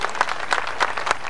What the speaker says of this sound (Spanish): Aplaudo a Melón Grande, porque también le vamos a dar un reconocimiento